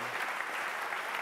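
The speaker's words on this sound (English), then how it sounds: "Go on, a round of applause, please." An audience at a Jurassic World content reveal gives a short round of applause, a quiet, distant, continuous patter of many hands.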